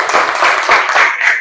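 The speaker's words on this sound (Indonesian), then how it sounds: "Silakan tepuk tangan dulu buat Dayu." A classroom of students claps in dense, sustained applause for a classmate, a loud, continuous patter of many hands lasting the whole moment with no talk over it.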